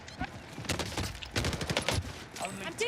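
Video game gunfire heard as scattered bursts of shots, some rapid and overlapping, at moderate loudness, with a voice speaking between and over the shots.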